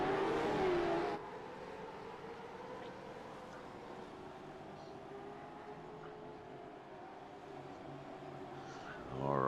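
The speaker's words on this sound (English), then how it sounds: "You can hear those cars revving. They are getting ready to go." Gen3 V8 race cars in a sim racing game rev and drone on the grid, a steady engine hum with a louder burst at the start and end, while a voice talks over it.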